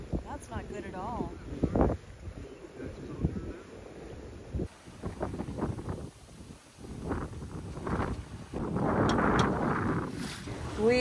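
Gusty wind buffets the microphone over rushing water as a sailboat moves along in strong wind, with voices talking in bursts between the gusts.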